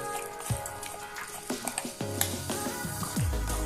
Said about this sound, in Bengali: এবার খুব ভালো করে ফেটাতে হবে।